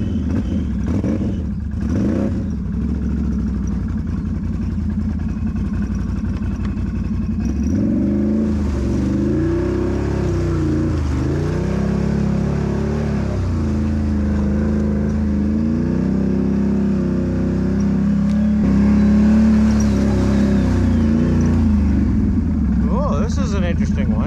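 A Jeep Renegade crawls along a rough off-road trail, its engine rumbling and revving unevenly with occasional clatter from the vehicle, while a person talks over it throughout.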